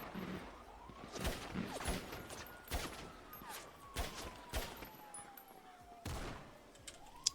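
Gunfire rings out in a role-play video game: a series of sharp shots and short bursts, some close and loud, others more distant, scattered irregularly over seven seconds over a faint background tone.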